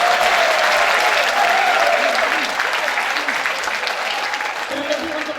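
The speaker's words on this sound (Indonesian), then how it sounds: "Mari kita beri aplaus." A large audience claps steadily and loudly through a festival opening ceremony in a church hall, dense continuous applause close by that fades slightly at the end, with a voice faintly speaking underneath.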